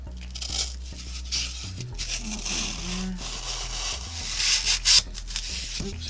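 A wooden planter stick gets sawn down, rough rasping strokes repeating in an uneven rhythm, close by and moderately loud, with a few scraping bursts toward the end.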